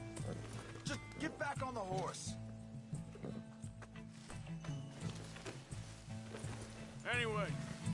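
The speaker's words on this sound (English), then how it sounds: "Just get back on the horse." A horse's hooves clip-clop in a steady galloping rhythm in the video game Red Dead Redemption 2, quiet and held under several stretches of conversation between characters.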